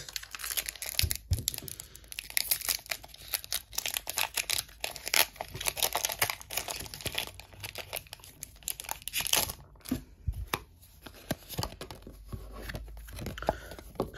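Foil Pokémon card booster packs from Temporal Forces and Paldean Fates are torn open and handled, giving continuous close crinkling and ripping with sharp tearing bursts throughout, no talking.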